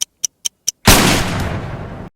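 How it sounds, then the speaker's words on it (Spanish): A single loud gunshot closes the 1995 French film La Haine, a sharp blast that decays into a long rumbling echo, preceded by four short evenly spaced ticks in near silence. "escuchamos un disparo pasando hacia los créditos"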